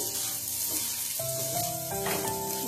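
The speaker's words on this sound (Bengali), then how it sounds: "এখানে আমি কাঁচা সিমই নিয়েছি, তাই ভেজে নিচ্ছি।" Steady sizzling of raw vermicelli frying in ghee in a pan, continuous and close, with no voices.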